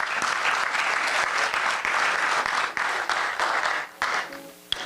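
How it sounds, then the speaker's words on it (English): A large audience at a school alumni reunion anniversary gala applauds loudly and steadily, dense clapping sustained with brief dips, and a voice briefly heard near the end. "Please put your hands together."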